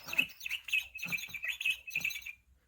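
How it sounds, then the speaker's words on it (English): Several birds chirp and tweet busily in a dense, high-pitched flurry, fairly close and continuous for about two seconds before fading out. No voices are present. "Chirping noisily, the birds"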